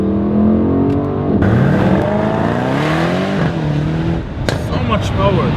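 A 2019/2020 Mercedes-AMG E63 S engine revs hard to almost 7,000 RPM, climbing in pitch and droning loudly, with someone talking over it.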